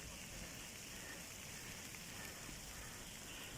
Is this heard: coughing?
no